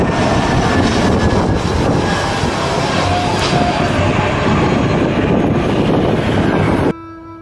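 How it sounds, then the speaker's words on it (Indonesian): An Airbus passenger airplane gives off a loud, steady, close roar of jet engines that holds without a break, then cuts off abruptly near the end. "Wow, besar sekali pesawat Aerobus luar negeri."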